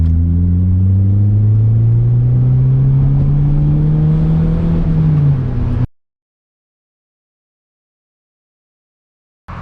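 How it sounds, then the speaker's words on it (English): Loud exhaust of an Acura TSX with a Fastline Performance 3-inch single-exit resonated exhaust revving up, the engine note climbing steadily for several seconds before cutting off abruptly into silence. "this is the Fastline Performance 3-inch single exit exhaust with the resonator"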